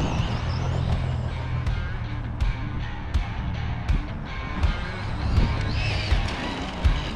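An Arrma Senton 3S 4WD BLX brushless short course RC truck is driving. It gives a steady, fairly loud motor drone with occasional light ticks and knocks and no talk.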